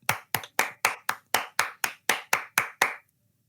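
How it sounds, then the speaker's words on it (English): A round of applause: eleven or twelve sharp hand claps in a steady, even rhythm, close and fairly loud, stopping abruptly after about three seconds with no talk over them. "Guys, I think this deserves a round of applause."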